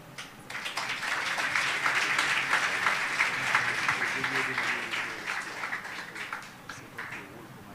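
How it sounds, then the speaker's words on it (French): Sustained audience applause at the grand final of a student engineering competition, a dense wash of many hands clapping from start to finish, faint voices beneath it. "Et vous méritez tous nos applaudissements."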